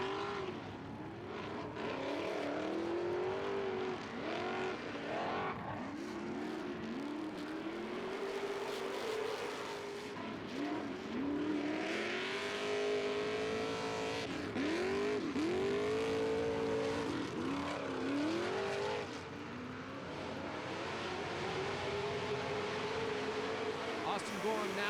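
Several 4x4 trucks race around a dirty, muddy track, engines revving hard and loud for the whole stretch under fast, continuous commentary.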